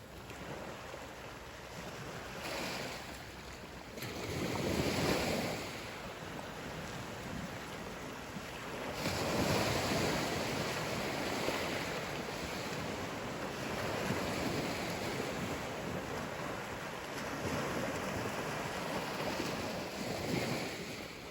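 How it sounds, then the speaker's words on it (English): Gentle surf washing onto a Sanibel beach on a calm morning after a storm, a soft continuous wash with slow swells and some wind rumble on the microphone, no voices. "The surf is very, very calm, but it is an absolutely beautiful morning."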